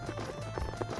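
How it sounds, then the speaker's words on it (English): Horses galloping in the Rogue Legacy video game, a rapid, steady clip-clop of hooves under dense game music and effects, continuous and fairly loud throughout the short stretch. "I hate these horses."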